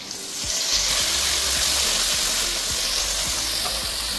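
Tomato goes into a pan of fried onion and ginger-garlic paste for an Apollo fish curry base, giving a steady loud sizzle and crackle of frying with faint stirring knocks, no talk.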